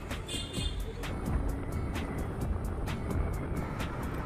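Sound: riding a motorbike home

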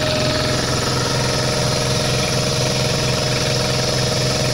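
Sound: air compressor running on an 8000W Reliable inverter

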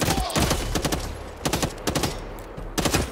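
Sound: gunfire from a semi-automatic gun in a video game

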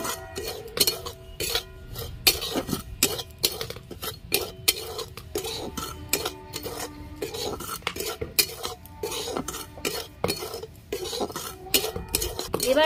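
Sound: semolina being stir-roasted in a hot wok

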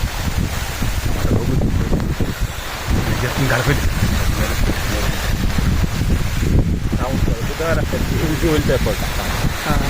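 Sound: wind

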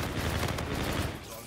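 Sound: gunfire from a gun in the Infinite Warfare video game

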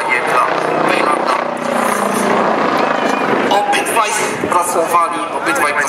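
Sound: Bo 105 Bolkow helicopter flying at air show

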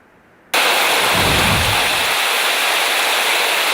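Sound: heavy rain

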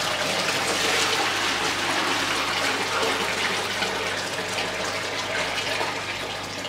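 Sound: water poured from barrel into bucket

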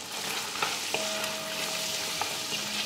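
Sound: stirring spices frying in a pan

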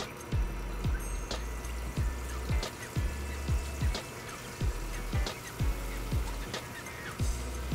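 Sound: pouring salsa into frying pan

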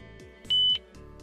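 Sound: car audio preset button beep

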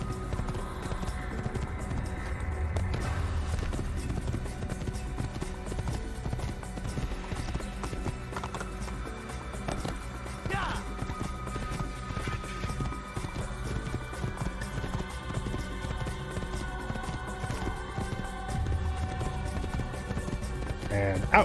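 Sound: horse galloping, from Assassin's Creed video game

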